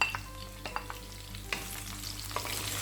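Onion sautéing in a pan with curry leaves, dried red chilli and green chillies for a green gram sambar: quiet, soft sizzling with a few sharp clicks and scrapes of a stirring spoon, no voices.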